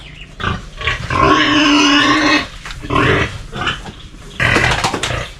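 Pigs on a Philippine farm grunt and squeal loudly and close up just before feeding, in several bursts separated by short pauses.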